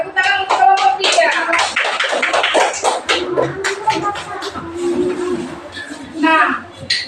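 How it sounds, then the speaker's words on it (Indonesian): A classroom breaks into applause for group 3. The clapping starts in a dense burst, thins into scattered claps, then swells briefly again near the end, with chatter and voices mixed in throughout. "tepuk tangan untuk kelompok 3"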